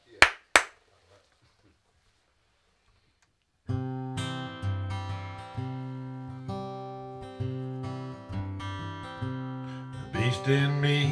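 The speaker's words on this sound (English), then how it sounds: "we'll clap" Two sharp hand claps ring out in a recording studio in quick succession near the start, followed by a pause of near-silence before music with steady sustained tones comes in.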